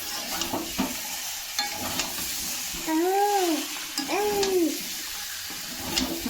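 Peas being stirred into a new-potato curry in a pan, with steady scraping and stirring strokes and a soft sizzle throughout, interrupted midway by two rising-and-falling high vocal calls from a child nearby.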